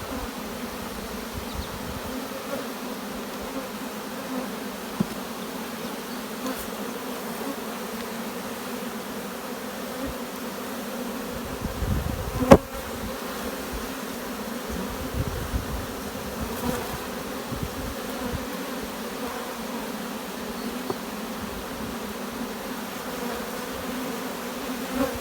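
Continuous low buzzing of many honey bees at an open hive, close and steady throughout, with a brief louder rustle partway through.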